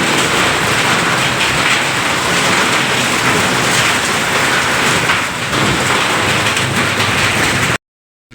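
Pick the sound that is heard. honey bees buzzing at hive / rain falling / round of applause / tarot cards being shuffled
rain falling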